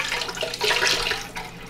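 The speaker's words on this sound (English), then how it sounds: "So I'm adding 2 cups of water instead." Two cups of water poured into a pot of roasted cauliflower and potato soup, a short loud splashing gush that swells midway and then eases off.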